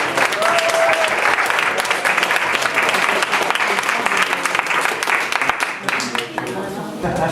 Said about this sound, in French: je vous demande d'applaudir le Nouveau Cosmos pour nous recevoir ce soir